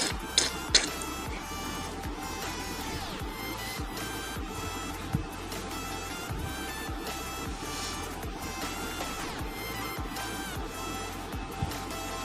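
A sewing machine runs in a steady, continuous mechanical whir with fast repetitive stitching clicks as a kurti is stitched into a baby frock, with no pauses over the whole stretch.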